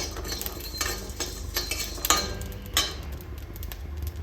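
Spices are lightly fried and stirred in a pan with a utensil, giving soft scraping and clinking strokes at an irregular rhythm over a faint sizzle, close and fairly quiet.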